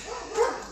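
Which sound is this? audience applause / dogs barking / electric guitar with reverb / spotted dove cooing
dogs barking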